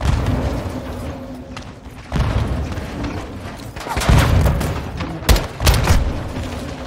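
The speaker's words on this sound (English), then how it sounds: "Incoming! Take cover! They're launching grenades!" Grenade blasts and gunfire in the Call of Duty: Modern Warfare II campaign, with heavy booming thuds and sharp bursts of shots arriving in uneven clusters over a dense, loud battle din.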